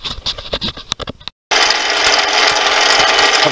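A drill bit cutting into the Berdan primer pocket of a 577-450 cartridge case coated with cutting fluid. A whining power tool runs in short bursts, then stops briefly, then runs steady and loud close by.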